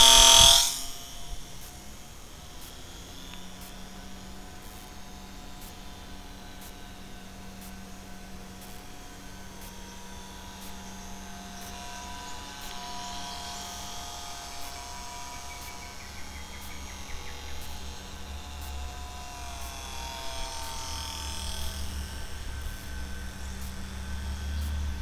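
A remote-control student trainer model airplane's motor runs at about half throttle, giving a steady, even buzzing drone that holds for the whole stretch at moderate, constant volume with no talking.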